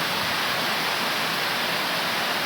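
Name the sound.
heavy rain pouring down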